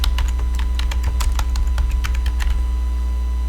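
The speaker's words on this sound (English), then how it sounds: "You can type that in" Rapid, irregular keystrokes on a computer keyboard, close and clear, entering a search term for heating and cooling companies, over a steady low hum with no talking.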